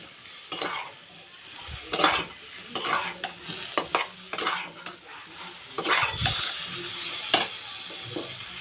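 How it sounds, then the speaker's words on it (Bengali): Spices for a spicy sea-fish curry with radish sizzle and fry in a pan while a spoon stirs and scrapes, giving repeated sharp bursts of frying over a steady hiss, fairly close, with no talk. "আমি এর মধ্যে জল ঢেলে দেবো।"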